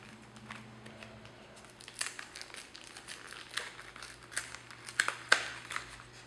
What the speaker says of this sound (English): Just tear this thing up.